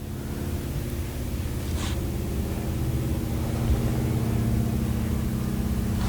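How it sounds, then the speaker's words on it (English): Loud low-flying airplane passing overhead, a dense continuous roar of engine noise filling the clip at steady volume with no talk. "Sounds like a plane's about to go down."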